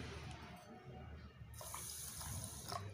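Rice grains being rinsed in water in a home kitchen, with steady running and splashing water that grows fuller and louder in the second half, alone without talk.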